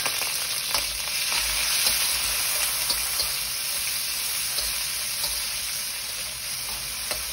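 Seafood and spaghetti sizzling steadily in a hot pan as they are warmed through, a loud, even frying hiss with faint crackles, alone without talk.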